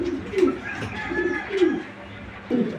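A pair of tiger grizzle racing pigeons coo in repeated low bursts, each a rolling throaty phrase, close and fairly loud, with short pauses between calls.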